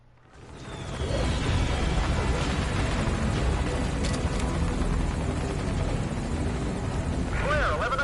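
Helicopter in the video game Metal Gear Solid Ground Zeroes, a loud, steady rotor roar that swells in within the first second and then holds constant, with voices talking over it.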